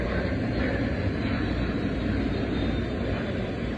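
Steady, even roar of a passenger airplane in flight on the way back from New York to Dallas, heard from inside the cabin as a constant close drone with no talking.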